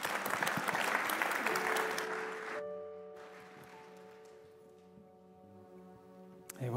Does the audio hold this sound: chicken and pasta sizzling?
no